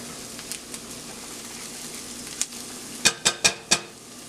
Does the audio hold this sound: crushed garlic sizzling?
yes